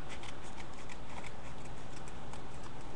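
Scissors snip through the leftover half of a paper doily, a steady rapid series of small crisp cutting ticks over a constant hiss, close and with no talking.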